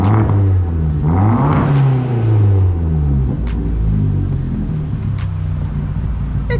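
Fiat 500 Abarth engine, warm on its second start, with a new 2.5-inch cat-back exhaust and catless downpipe, revving up and down in loud close blips over a steady idle rumble, no talk.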